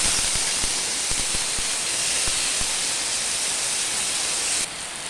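Chopped tomatoes hit hot oil left over from frying fish, with fenugreek seeds already in the pan, for a rohu fish sour curry. A steady, loud sizzling hiss runs throughout with a few small pops, easing slightly just before the end.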